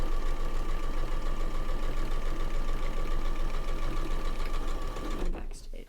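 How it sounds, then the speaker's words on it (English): A sewing machine stitches an apron seam, running as a loud, fast, even mechanical chatter that continues steadily before stopping abruptly near the end. "Back stitch, just to make sure that it really is in there, and then just sewing all the way down to the bottom."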